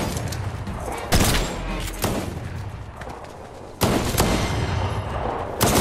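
Video game gunfire in a heated match: loud broadband shots burst at about 1.1, 2.0, 3.8 and 5.7 seconds over a busy, dense game soundscape, with no talk.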